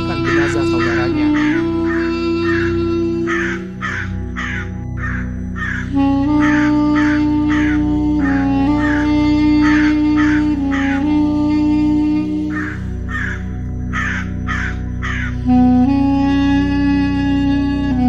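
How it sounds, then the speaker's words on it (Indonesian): Crows caw in a steady run of repeated calls over music, set in a retelling of the story of Qabil and the crow digging the earth, with narration alongside. "Burung gagak menggali-gali di bumi untuk memperlihatkan kepada Qabil bagaimana seharusnya"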